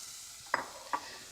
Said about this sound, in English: We have our pot here, it's hot. Let's add our onion